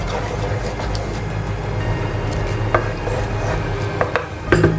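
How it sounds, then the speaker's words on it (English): Homemade tomatoes stirred in a cooking pot, a steady wet churning and scraping with occasional clinks of the utensil against the pot, close and fairly loud throughout. "Give it a nice stir, mix them all really well."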